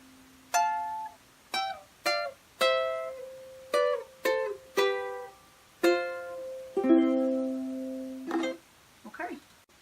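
Ukulele coda plucked across all open strings, a sequence of separate bright plucks and short runs at a relaxed, uneven pace, each ringing briefly, ending in a fuller strum and a few quiet final notes.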